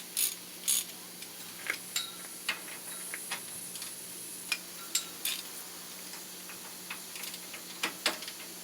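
Ratcheting clicks from a wrench working on stubborn 19 mm bolts on a Jeep Wrangler YJ during a lift kit install, sharp metallic ticks coming in irregular bursts over a steady background hum, with no talking.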